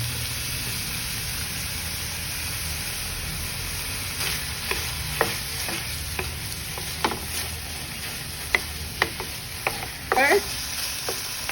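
Ground pork fries in a pan with a continuous soft sizzle, broken by sharp scraping clicks of stirring that grow busier toward the end, with no voices.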